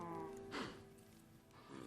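Cattle mooing in the Minecraft video game, a short lowing call rising mid-clip over a steady background drone, moderately close with no talk.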